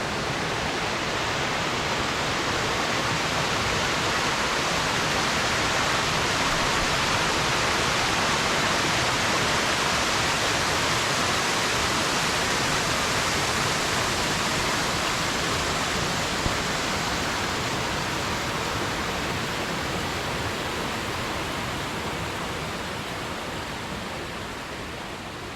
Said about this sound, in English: One of our waterfalls flowing a bit better after that rain we've had the last few days.